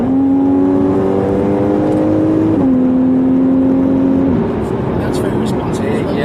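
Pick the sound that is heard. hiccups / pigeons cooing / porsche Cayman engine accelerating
porsche Cayman engine accelerating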